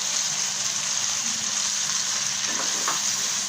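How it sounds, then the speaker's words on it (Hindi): Fried chicken pieces tossed into a hot pan for restaurant-style chicken angara crackle loudly and continuously up close. A couple of soft clatters come near the end, with no talking. "इसमें अब चिकन ऐड करूंगा मैं। ये जो हमने फ्राई किया था चिकन फ्राई इसमें ऐड करूंगा।"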